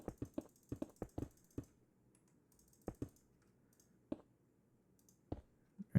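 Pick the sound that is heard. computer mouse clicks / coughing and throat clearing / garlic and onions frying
computer mouse clicks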